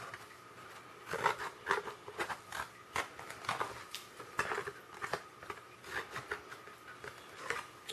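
Scissors snip the little side flaps off a homemade peat pot, making a series of quiet, irregular crisp cuts with faint rustling and creaks between them.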